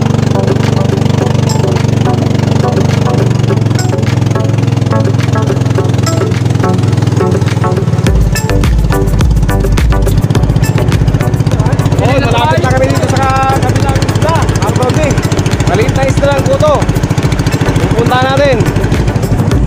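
A motorcycle engine runs steadily throughout, a continuous loud drone near the listener on a trip toward the Blue Lagoon area in Matnog, Sorsogon, with people talking over it.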